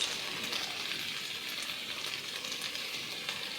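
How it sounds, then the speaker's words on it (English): Potatoes fry in a pan over medium heat with a steady, dense sizzle throughout, with faint stirring scrapes now and then beneath the continuous crackle. "So you keep on stirring the potatoes until they are cooked, not on high heat, but medium heat."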